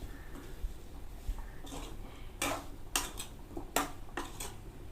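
Raw potatoes are stirred into clam meat in a cooking pot, with a few distinct metallic clinks and scrapes of a spoon against the pot rising over a quiet background, with no talk.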